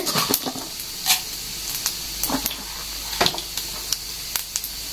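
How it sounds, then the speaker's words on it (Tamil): Mustard seeds and urad dal crackle and sizzle in hot oil as tempering for lemon rice, a steady close hiss broken by sharp pops and spits scattered throughout. "இப்போ லெமன் சாதம் தாளிப்பு போட்டுக்க போகிறேன்"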